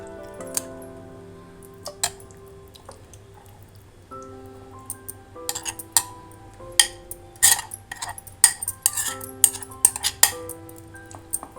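Marinated curd chicken tipped into a kadai: wet squishes, drips and metal spoon clinks against the pan, sounding close over soft background music.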